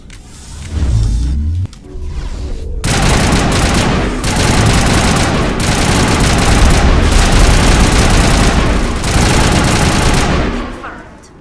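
Sustained heavy weapon fire in the Mass Effect video game, with rapid overlapping bursts and booms running loud and dense for most of the stretch after a brief quieter start.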